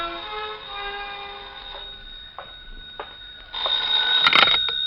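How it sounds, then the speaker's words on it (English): An old-fashioned telephone rings in an old time radio crime drama, a series of bright trilling rings with short gaps, the last burst louder and fuller, heard with no talk. "when the phone rang"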